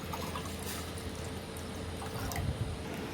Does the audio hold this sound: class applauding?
no